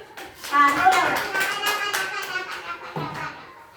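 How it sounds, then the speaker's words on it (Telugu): Schoolchildren clapping for a classmate, a burst of uneven, overlapping claps that builds quickly, then trails off, with a voice calling out during it. "క్లాప్స్ కొట్టండి వాడికి"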